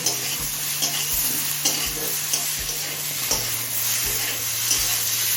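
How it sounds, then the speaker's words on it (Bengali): Vegetables coated in spices fry on a medium flame in a loud, continuous sizzle. A spatula scrapes and taps the pan in an even rhythm, roughly every second. "এবার মিডিয়াম ফ্লেমে আরও কিছুক্ষণ ভেজে নেব"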